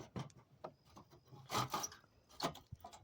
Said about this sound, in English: On the inside, it has a grate that flips down.